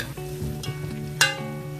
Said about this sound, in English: Just let the butter melt.